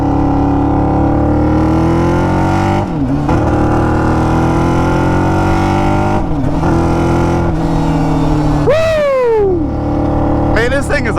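A 600cc go-kart engine revs hard and loud through the gears, with steady high-pitched drone, brief dips at each shift and rising pitch sweeps as it accelerates, heard close throughout.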